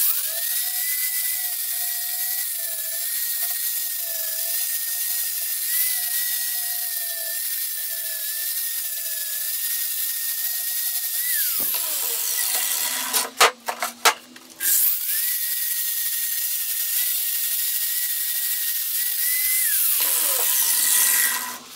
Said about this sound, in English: I think that drilling these holes went very well.